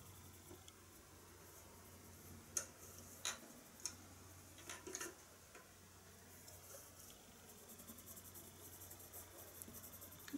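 Colored pencil burnishing with a bright yellow called Cream on paper, heard as soft, faint scratchy strokes with a few sharper ticks spread through the stretch, quiet and close with no talking.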